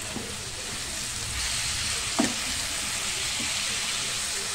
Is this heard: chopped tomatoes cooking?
yes